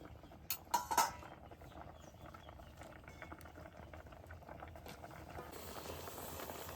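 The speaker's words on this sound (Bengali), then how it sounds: "এবার আলুগুলো ভালো করে সিদ্ধ হোক" Potatoes in a pot boil quietly at a soft, steady bubble in a rural kitchen, and a few sharp clinks come near the start.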